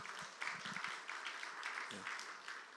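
Scattered applause from a church youth service congregation greets a member, a moderate patter of claps with a voice speaking over it.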